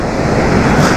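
Sea waves washing onto Dolphin beach at Lazarevskoye in December, a loud continuous rushing surf with wind noise, heard close and without voices.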